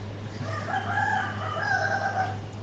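A rooster crows one drawn-out, wavering call close by, over a steady low background hum.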